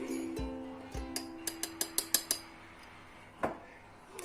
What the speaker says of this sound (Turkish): 2 tatlı kaşığı kakao ekliyoruz.